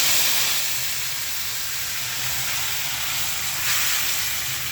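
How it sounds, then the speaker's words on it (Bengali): Vegetable curry hits a hot pan with black cumin already in it, giving a loud, steady sizzling hiss that holds throughout, with a low background hum underneath. "এই যে আমি কালো জিরা দিয়ে দিচ্ছি, এখন তরকারিটা দিয়ে দিই।"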